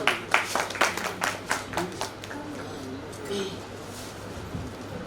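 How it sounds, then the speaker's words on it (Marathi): Scattered hand claps at a poetry recital ring out at the start, a handful of sharp, separate claps that thin out within a few seconds, with voices murmuring underneath. "सरांसाठी एकदा जोरदार टाळ्या होऊन जाऊ द्या"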